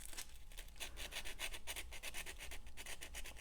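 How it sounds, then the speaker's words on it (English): Sandpaper is rubbed back and forth on a gemstone jewelry setting holding a cubic zirconia, making quiet, rhythmic rasping strokes at close range. "Go back to the sandpaper."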